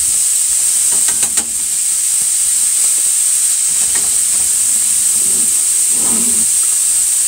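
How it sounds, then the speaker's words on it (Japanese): Ground meat searing in a hot pan for meat sauce, a loud steady hiss and sizzle with faint scraping and stirring touches throughout, no talking. "まずはひき肉を表面をビーッと焼いてください"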